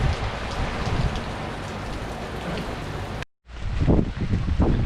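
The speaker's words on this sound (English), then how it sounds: "started picking up raining again, so we're gonna wait for it to die a little bit" Steady heavy rain pours down outdoors, a dense continuous hiss that cuts out briefly before resuming with a few low thumps and gusty rumbles beneath it.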